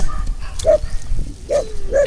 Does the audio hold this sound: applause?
no